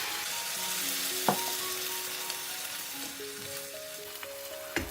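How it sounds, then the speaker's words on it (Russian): Broth is poured into a pan of spinach that has been sizzling, producing a steady soft frying hiss with a few faint clinks, close and with no talking. "И сейчас можно добавить бульон"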